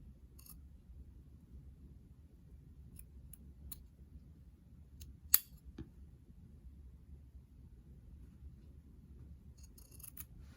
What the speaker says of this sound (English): I am just going to snip off the little bit